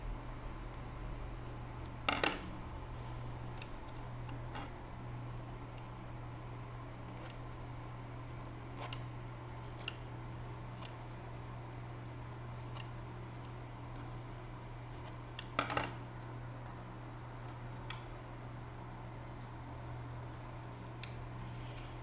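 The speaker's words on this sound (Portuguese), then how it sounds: "Agora eu vou tirar aqui o meu alinhavado." Scissors snip out basting stitches from a zipper seam while sewing, giving faint, sparse clicks over a steady low hum, with a couple of sharper snips standing out.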